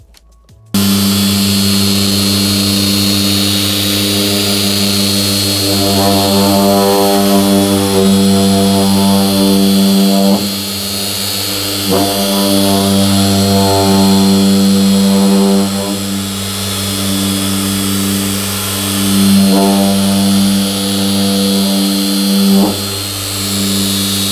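Machine polisher running at high speed setting, buffing compound into a Mk2 Ford Fiesta bonnet: a loud, steady close-up motor drone with a tonal hum that wavers slightly as pressure is applied, with no talk.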